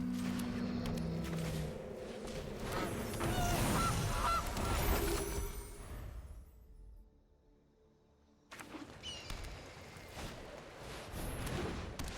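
Goose honks from the Gilded Goose card in the video game Magic Arena, a loud cluster of nasal honks and flapping, a brief near-silent gap, then more honking.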